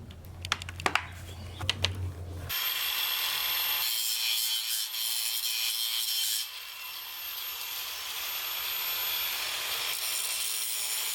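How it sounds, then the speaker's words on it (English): Jeep Wrangler JL grille inserts being cut, a few sharp knocks and then a steady, loud, broadband rasp of cutting that holds for most of the stretch, close by with no talking. "Next step, cut the grill inserts and put them back in."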